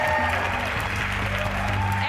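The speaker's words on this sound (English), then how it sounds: "give our loudest claps and our loudest cheer for Khuthatso Montjane" An awards ceremony audience applauds loudly in a dense, sustained wash of clapping, with a low hum beneath it throughout.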